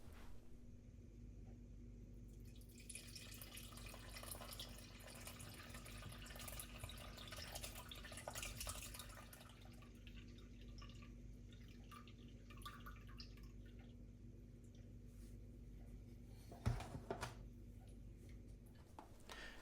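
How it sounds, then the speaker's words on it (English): Blackberry vinegar liquid trickling through a sieve and muslin, a faint, quiet pouring stream that swells early and then dwindles to soft drips, with one sharper knock near the end over a low background hum. "I'm just going to pass the liquid through this."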